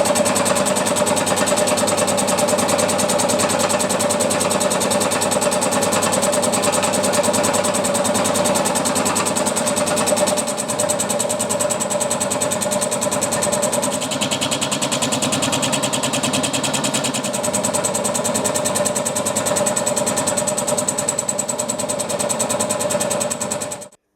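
A milling machine cuts steel with a steady, loud mechanical whir and a fine rapid chatter, continuous and close for the whole stretch, with a slight shift in tone midway before it stops abruptly at the end.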